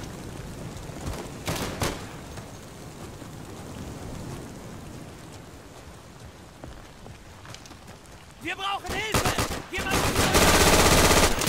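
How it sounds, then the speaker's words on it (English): Rapid bursts of MG42 machine gun fire in the World War II shooter game Day of Infamy, sporadic shots early then a loud sustained burst near the end, amid game noise. "Oh, MG42 wins again."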